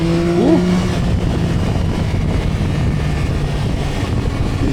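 A Yamaha Tracer 9 GT's CP3 three-cylinder engine hums steadily while riding, a continuous mid-low drone under wind rush, with a brief rising tone near the start and no talk.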